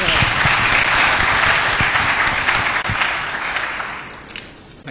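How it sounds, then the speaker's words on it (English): Audience applause for a conference panel, a dense wash of many hands clapping at full strength from the start, then gradually thinning and fading toward the end. "Can we please give our panel a big round of applause?"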